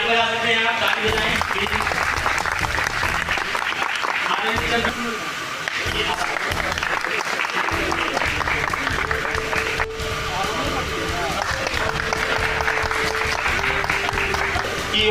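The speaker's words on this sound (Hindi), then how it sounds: "ताली बजा सकते हैं आप, ताली बजाएं।" Crowd at a temple-cell district seminar in Mehrauli applauding to welcome guests, continuous dense clapping throughout, with an amplified voice speaking over the applause.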